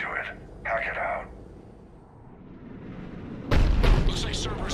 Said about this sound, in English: Looks like Cerberus got that cannon operational